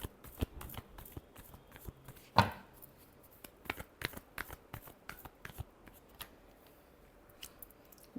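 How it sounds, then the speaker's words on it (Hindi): Tarot cards being shuffled by hand, a quick run of crisp riffling snaps and soft slaps with one sharper burst partway through, close and fairly quiet, no talking. "Last shuffle."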